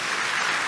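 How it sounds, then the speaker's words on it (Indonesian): Brief burst of loud, dense clapping from a church congregation at a youth revival service, a short continuous wash of hands with no voices on top. "Tepuk tangan sekali lagi yang paling meriah buat Tuhan."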